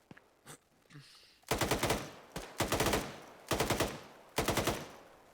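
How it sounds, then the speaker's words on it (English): Bursts of automatic gunfire in the military video game Arma 3. Four loud rapid-fire volleys come at regular intervals, each lasting about half a second, after a few fainter single shots. "Viking, keep up the fire, but don't endanger yourself"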